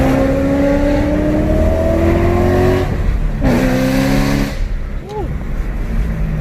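Supercharged BMW E92 M3 engine pulling hard under throttle, a loud rising drone from inside the car that drops as gears change and then builds again.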